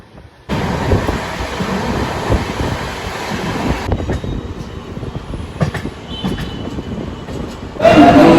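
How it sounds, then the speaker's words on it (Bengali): The Gitanjali Express rolls along at speed, a loud steady rumble of wheels and carriages with rhythmic clatter, heard from inside the train and swelling louder at the end. "ট্রেন সাতটার সময় কারেন্ট টাইমে নাগপুর জংশনে ঢুকিয়ে দিয়েছে"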